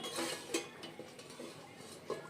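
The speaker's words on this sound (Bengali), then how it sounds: "পনেরো মিনিট হয়ে গেছে কড়াই ঢাকাটা খুলে নিলাম" A metal lid comes off a wok (kadai) where a large boal fish has simmered on low gas, giving a few soft clinks and scrapes, quiet and close, with no talking.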